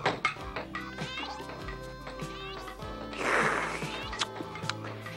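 A cartoon cat meows over a busy animated soundtrack, the cry rising loud and close in the middle of the clip amid music and effects.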